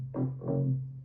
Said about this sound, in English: The mid bass is a little gritty.